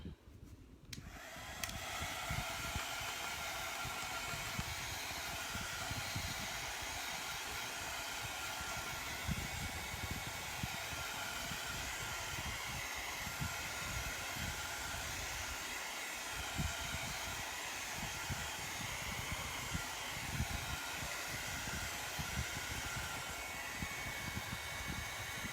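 A hair dryer blows on a craft acorn with a steady, loud rushing whoosh. It starts abruptly and runs unbroken at close range for about 25 seconds.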